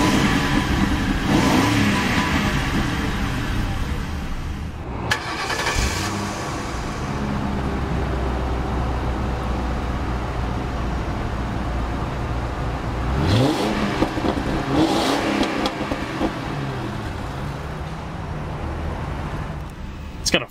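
A 2006 Ford Crown Victoria LX Sport engine idling and revving through its exhaust, loud and close, with several rising and falling revs over a steady rumble.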